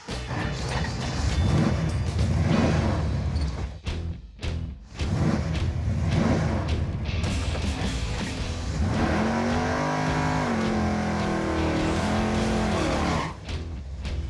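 A drag race car roars through another run, its engine loud and sustained with revving and a brief lull before the noise continues strongly to the end.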